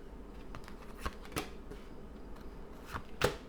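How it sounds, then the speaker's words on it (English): Tarot cards being shuffled nearby, giving a few soft papery riffles and taps over a quiet, low background hum. "Let's do one more shuffle."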